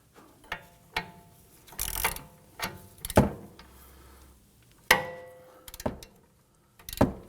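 A wrench tightening a sway bar link nut on a 2003-2014 Volvo XC90: scattered close metallic clicks and ratchet ticks with uneven gaps, some louder knocks, and short quiet stretches between.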